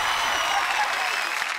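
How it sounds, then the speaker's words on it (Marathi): A studio audience on a comedy show claps loudly and continuously, a dense burst of applause that holds steady before tapering slightly. "जोरदार टाळ्या"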